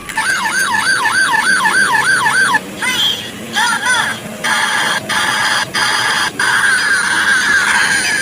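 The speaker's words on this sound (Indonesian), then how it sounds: "Ada mobil polisi teman-teman." A police car siren wails loudly and close, first in a fast rising-and-falling yelp, then in choppy bursts of steady tones, with a road vehicle running underneath.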